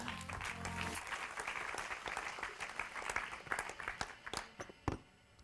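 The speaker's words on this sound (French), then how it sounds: "qu'on peut applaudir également" An audience at a corporate communications event applauds a Decathlon France communications director, dense clapping that stays steady, then thins into scattered claps and fades near the end.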